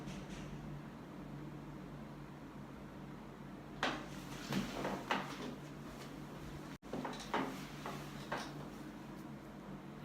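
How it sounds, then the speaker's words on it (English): Knocking on a door indoors, a couple of short clusters of faint raps separated by a pause over a quiet room hum. "There's someone knocking at the door."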